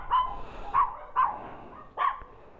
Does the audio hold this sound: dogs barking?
yes